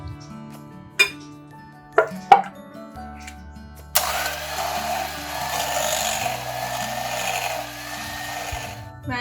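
An electric mixer whirs into action after a few sharp clicks and knocks, beating vanilla custard, cream cheese and whipping cream in a bowl with a steady, fairly loud buzzing drone.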